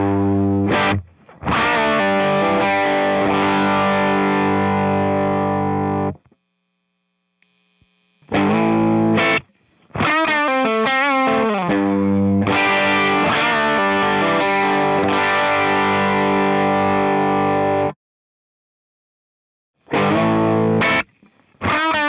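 Electric guitar played through an Empress Compressor MKii set for heavy, squishy compression, sounding as loud sustained chords and riffs in several bursts separated by short silences, with no talking.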